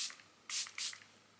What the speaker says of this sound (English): I usually shake this and give it like a test spray.